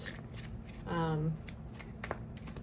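Tarot cards riffled and shuffled in the hands, a brief close papery flutter with a few soft taps around it, while a person speaks quietly underneath.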